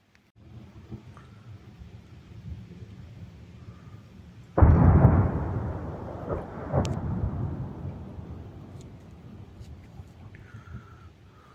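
A distant explosion from an incoming strike in Kherson at night sets off a sudden heavy boom that rumbles and decays over several seconds, rising above a steady low outdoor background, with a fainter second thud soon after.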